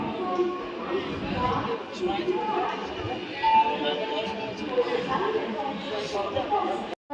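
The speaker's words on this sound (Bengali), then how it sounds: "বর্ধমান ছেড়ে যাচ্ছে এখন ছেড়ে দিল ট্রেন" A local train pulls out of Bardhaman station on the Howrah chord line, a steady rolling rumble heard from inside a coach with passengers chattering over it.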